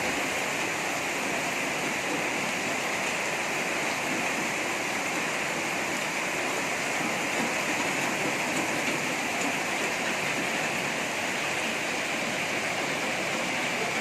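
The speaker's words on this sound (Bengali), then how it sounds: "বৃষ্টি আস্তে আস্তে বাড়তেছে।" Dense, steady rainfall pours down outside a home in Malaysia, a constant broadband hiss and patter that stays loud and even throughout, with no voices.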